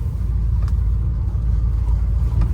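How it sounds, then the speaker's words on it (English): A 1976 Chevrolet Caprice Classic with its original 350 V8 and Turbo 350 automatic cruising around the block, a low steady engine rumble heard from inside the car, loud and continuous with no talking. "go drive the 76 Caprice around the block"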